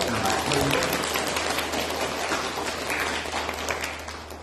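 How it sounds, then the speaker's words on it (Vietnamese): A room full of people applauding at a Buddhist dharma talk, dense clapping that swells briefly at the start then slowly fades over a few seconds. "xin cho một tràng pháo tay đạo tràng rất là bạc hơn"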